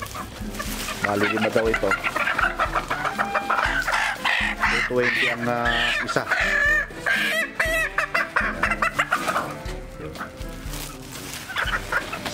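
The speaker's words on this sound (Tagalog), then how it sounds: "kukuha na tayo ng manok na ikukulong natin dyan" Chickens cluck and squawk busily as birds are being caught to be penned, with a person speaking over the loud, dense flock noise throughout.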